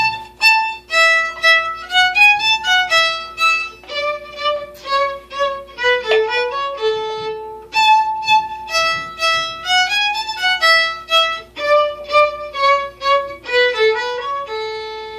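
A Suzuki-method lesson piece played in short, detached staccato notes on a bright keyboard-like instrument, each note crisp and clipped, in a bouncy steady rhythm.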